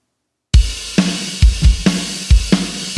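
Mixed drum kit playing a Way Maker cover, with booming kick hits, sharp snare cracks and bright washing cymbals in a steady rhythm after a half-second of silence, loud and close with no voices.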